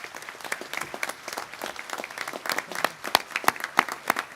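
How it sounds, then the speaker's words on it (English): Scattered applause for graduates at a 2021 graduation ceremony, thin and fairly faint, with separate sharp claps standing out in an uneven, patchy rhythm rather than a dense roar. "I'd like to invite everyone to give a special round of applause to all our graduates who are graduating today"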